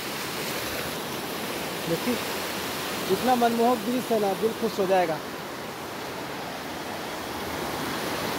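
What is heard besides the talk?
strong river current flowing at Rajrappa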